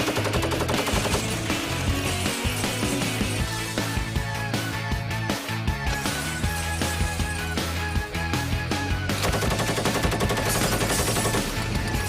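Tank machine guns fire in sustained, dense bursts at Tankfest at the Tank Museum, a loud continuous rattle that fills the whole stretch with barely a pause.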